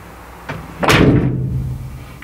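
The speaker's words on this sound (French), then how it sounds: "Un claquement de porte par exemple de mon fourgon." A single loud, close slam of a van door, a sharp thud followed by a short resonant ring that fades over about a second.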